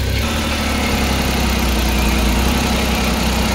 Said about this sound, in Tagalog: observe lang po muna tayo sa andar ng makina. Ayan o. Bigla na lang tumataas yung RPM at bigla na naman bumagsak